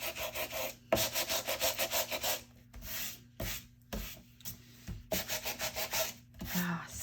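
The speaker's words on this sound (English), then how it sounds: "Okay, I think that's enough sanding." Coordinating scrapbook paper is hand-sanded with quick, rhythmic back-and-forth scratchy strokes. The strokes come close up in bursts separated by short pauses, with no talking.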